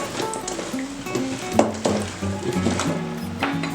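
Mango pickle pieces being stirred into oil in a pot, with soft wet sloshing and occasional light clinks of a spoon against the vessel, close and moderately loud, no talk.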